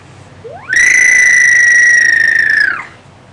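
A toy baby bird lets out a single long, high, whistly chirp that sweeps up sharply, holds steady for about two seconds and then drops off, loud and close with nothing else over it.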